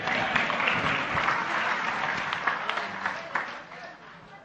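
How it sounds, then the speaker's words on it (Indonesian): A crowd at a gathering claps warmly for Gus Mus, a dense burst of applause with some voices mixed in that gradually fades over a few seconds. "tepuk tangan untuk Gus Muz"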